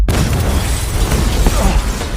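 A film explosion blows a character several meters through the air, a loud rumbling blast with dense low booming debris that continues for about two seconds.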